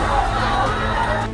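A rioting mob in Murshidabad, a dense, loud crowd roar with overlapping yells and shouts, sustained and close throughout.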